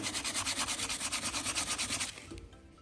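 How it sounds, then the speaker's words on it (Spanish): Steady back-and-forth hand sanding on a spray-painted hard surface, rhythmic rasping strokes about five per second, close up, stopping near the end. "Entonces lijo un poco a la redonda para que no se vea tanto la diferencia."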